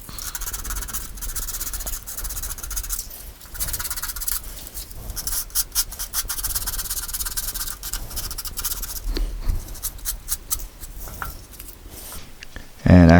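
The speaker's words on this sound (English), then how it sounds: "I'm going to come in with some 100 grit sandpaper and start from there" Continuous rubbing and scratching of 100 grit sandpaper against a turned wooden bowl, a steady rasp with uneven strokes and a brief louder knock at the very end.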